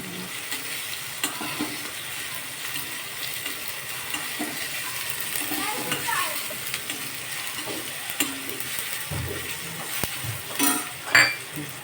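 Tomato with turmeric sautés in a pan, giving a continuous close sizzle with scraping stirs and occasional light clinks of a utensil against the pan, growing busier toward the end.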